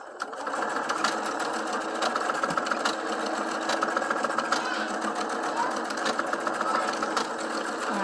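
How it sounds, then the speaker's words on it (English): A sewing machine stitching elastic onto bloomers runs steadily at close range, a continuous buzzing whir with fine rhythmic ticking from the needle, unbroken for the whole stretch. "And then I just sew it."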